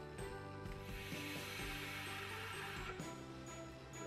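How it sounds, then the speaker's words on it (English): Rhythmic mechanical clicking from the airflow adjustment ring being turned down on an Aura Mini vape, a steady run of close ratchet-like clicks over a constant background hum, with no talking. "So I'm gonna turn the airflow down just to show you guys."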